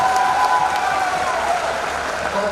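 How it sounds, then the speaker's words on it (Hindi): Steady applause from a large audience at a Hindi kavi sammelan poetry event, dense and continuous throughout without fading. "अब ताली तो बजा दो बेचारी के लिए।"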